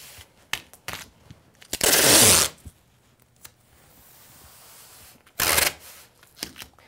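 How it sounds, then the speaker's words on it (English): Masking tape is pulled from the roll and used to tape shade cloth down to a work surface for a laminated roller shade: two loud ripping bursts with soft handling clicks between them. "So I'm going to tape it with masking tape down to the work surface."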